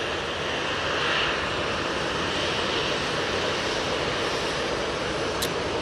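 Passenger jet aircraft, a TUI plane landing at Manchester Airport, heard as a steady broad engine roar that stays loud and continuous throughout, with a faint wind-like hiss.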